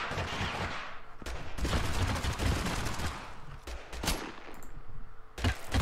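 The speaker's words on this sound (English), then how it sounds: "Being shot from outside." Bursts of gunfire crack from outside a building in the video game Totally Accurate Battlegrounds, a rapid volley of fairly loud shots with brief pauses between clusters.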